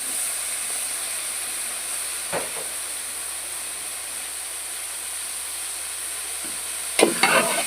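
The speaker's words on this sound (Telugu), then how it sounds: "మళ్ళీ కలుపుకొని కింద మాడకుండా చూసుకోవాలి" Tomatoes being stirred into sambar in a pan, a steady hiss of cooking steam broken by a couple of brief scraping stirs.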